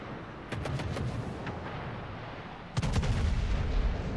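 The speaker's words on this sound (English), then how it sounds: "Missed that salvo, unfortunately." Bismarck battleship main guns fire salvos in the World of Warships naval game, with two heavy booming volleys, one early and a louder one later, each trailing into a rumbling roar.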